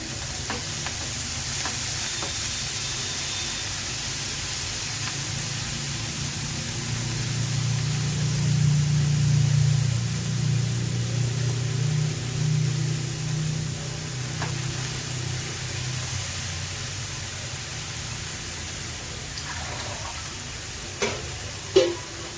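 Fenugreek leaves sizzle steadily in a hot pan over low heat, a soft continuous frying hiss with a faint low rumble that swells a little midway, ending with a couple of small knocks.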